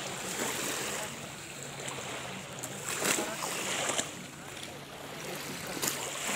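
Waves lapping on the Pirogovskoye reservoir, a soft continuous wash of water with occasional splashes and light wind, fairly quiet and close by.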